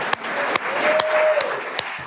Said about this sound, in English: we can applaud these candidates